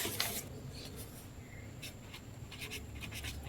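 Pen writing by hand on paper while solving a pattern and number sequence problem, a faint, close scratching of short strokes and pauses over a low room hum.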